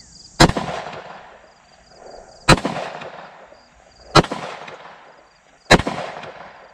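Four sharp 10mm pistol shots from a Smith & Wesson M&P 2.0, fired with spicy handloads at outdoor steel targets and a bowling pin, spaced about two seconds apart, each loud crack followed by a ringing decay.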